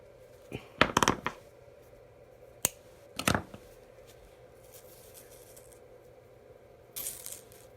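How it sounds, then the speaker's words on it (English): Scissors snip through a piece of tassel thread during jewelry crafting, giving a few short, crisp close-up clicks spaced apart, with a faint rustle near the end. "Go ahead and cut it."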